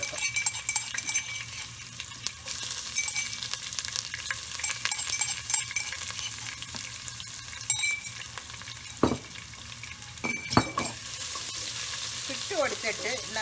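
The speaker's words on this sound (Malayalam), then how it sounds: "ഇട്ട് കൊടുത്തിട്ട് നന്നായിട്ട് ഇതിൻ്റെ ഒരു മണം വരാനായിട്ട് ഞാൻ നന്നായിട്ടൊന്ന് ഇളക്കി കൊടുക്കും" Crushed ginger, garlic and cumin sizzling in a pan as they are stirred, a steady close fry with occasional sharp clinks of the spoon against the metal, no talking.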